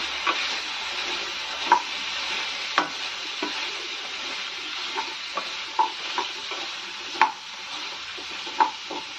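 Drumsticks frying in oil in a pan, a steady hissing sizzle with periodic spatula scrapes and taps on the pan, close, no talk.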